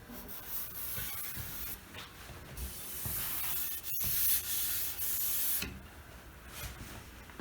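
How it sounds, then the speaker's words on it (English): Orbital sander running with 100 grit paper over a mission oak desk, a steady close rubbing whir that swells and dips in intensity as it moves across the wood, alone without talk. "I did a little more sanding. I went up to 100 grit on with the orbital sander."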